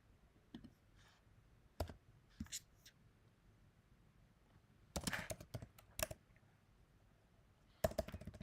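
Computer keyboard keys click close and quiet in short bursts of typing separated by pauses, with a denser flurry midway and another at the end; the room is otherwise silent.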